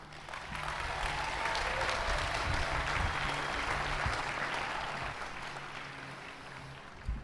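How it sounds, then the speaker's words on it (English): Steady applause from a large audience at a university commencement ceremony, sustained for several seconds without pause and fairly distant. "Please join me in a round of applause for our platform party."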